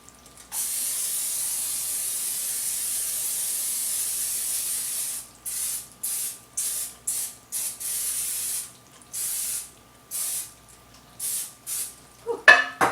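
A long continuous hiss of cooking spray from an aerosol can onto a pan, followed by a series of short, choppy bursts, close up.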